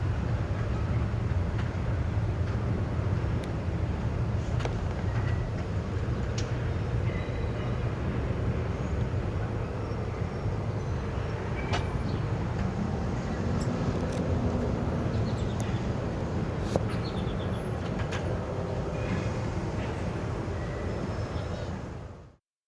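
A freight train hauled by a GE ET44AH Tier 4 GEVO locomotive rumbles steadily past, a continuous loud low drone with faint metallic squeals over it, then cutting off abruptly at the end.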